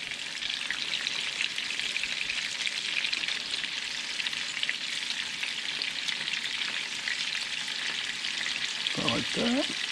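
Thin pieces of freshly caught cobia fry in a pan with a continuous close crackling sizzle, broad and steady throughout, ending with a brief scrape as the pieces are moved.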